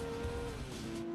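Racing in Gran Turismo 2, a Mazda RX-7 rotary engine drones loud and steady at a high, sustained pitch that dips a little late in the run, with a brief tire squeal noise and no speech.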